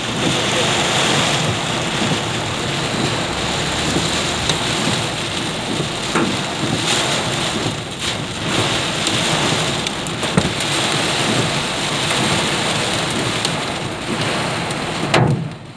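Heavy rain with hail pounds down as a dense, roaring wash, with hailstones striking hard surfaces as scattered sharp knocks, loud and unbroken throughout, likely heard from inside a vehicle on a flooded road.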